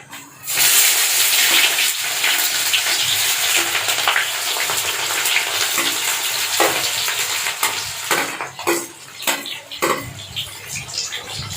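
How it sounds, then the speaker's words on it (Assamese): Onions sizzle and crackle loudly in hot oil, with occasional stirring scrapes and clinks of utensils against the pan throughout. "এতিয়া আমি কাটি থোৱা পিঁয়াজখিনি লাহে লাহেকৈ দি দিম।"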